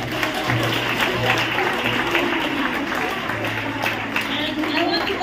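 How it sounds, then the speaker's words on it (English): Church congregation clapping hands together, a steady wash of applause with speech and murmuring voices running over it. "I want every single hands to clap."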